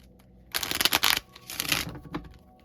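Two bursts of crisp, riffling tarot card shuffling, fairly close, followed by a few softer taps and slides as the deck settles.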